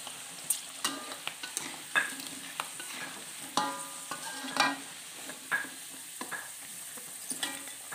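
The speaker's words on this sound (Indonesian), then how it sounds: "Sekarang kita goreng jengkolnya." Jengkol beans fry in oil with a steady crackling sizzle, punctuated by scraping clinks of a utensil stirring the pan at an uneven pace.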